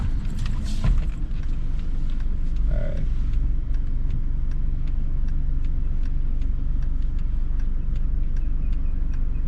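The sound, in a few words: car driving slowly during a driving test maneuver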